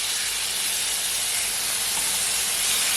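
Chicken sears in a hot pan while cream-sauce Alfredo is being made, a loud, even, hissing sizzle that holds steady from start to finish with no talking over it.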